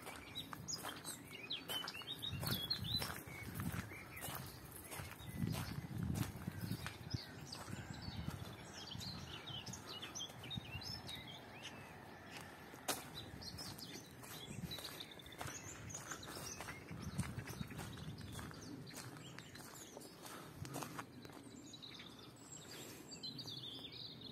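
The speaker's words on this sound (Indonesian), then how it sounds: "Di sini selalu banyak burung yang putih-putih ini." Many white birds chirping and calling at a distance after winter, with outdoor background murmur and occasional footsteps or clattering throughout.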